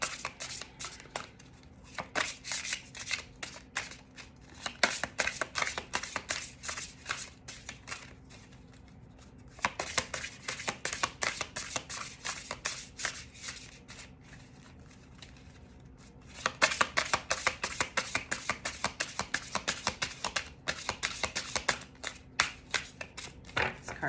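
Tarot cards are shuffled close up in repeated bursts of rapid riffling and slapping, separated by brief quieter pauses, with no voices.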